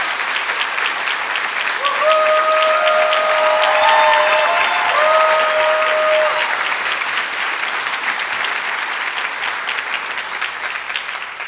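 Loud, sustained audience applause fills a banquet hall at an annual law luncheon awards event, steady clapping with some cheering and whoops rising over it before slowly tapering off.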